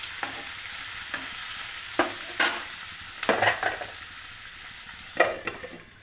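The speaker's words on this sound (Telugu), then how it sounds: "ఉల్లిపాయలు మెత్తబడే వరకు కొంచెం సేపు మగ్గనివ్వాలి." Onions with turmeric softening in a pan for an ivy gourd curry, a low sizzle under several distinct scraping stirs of a spoon against the pan, close by and without speech.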